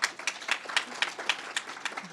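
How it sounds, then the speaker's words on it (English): An audience gives a brief round of applause for alumni panelists at a policy event, with rapid, fairly close clapping that rises and falls in quick bursts for about two seconds. "let's give them another quick round of applause"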